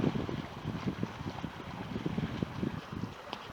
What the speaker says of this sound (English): paddling out along these little set of cliffs